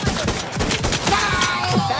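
Bursts of gunfire in the video game Outer Worlds 2 crackle loud and close in rapid overlapping volleys, like a hectic firefight.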